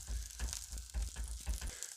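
Peppers, onions and mushrooms fry in oil in a pan, giving a steady close sizzle broken by repeated low thumps and scrapes as the vegetables are stirred and pushed around.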